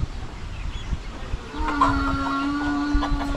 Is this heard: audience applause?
no